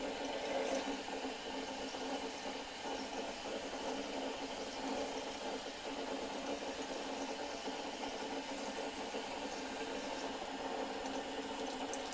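Tap water runs steadily into a bathroom sink while a face towel is rinsed between wipes during a skincare routine, a continuous hissing stream with slight splashing throughout.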